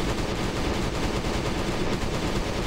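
Unsilenced gunfire rattles in Last Day on Earth: Survival, a dense, continuous burst of loud rapid shots without pause.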